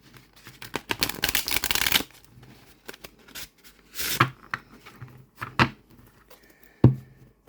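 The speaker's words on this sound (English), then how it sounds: "Here, I'm trying to show you how easy linen decks are for me to shuffle" Hands shuffling a linen-finish tarot deck in bursts of crisp riffling and tapping, a longer run at the start followed by several shorter shuffles and a sharp final knock, close and clear with no talking.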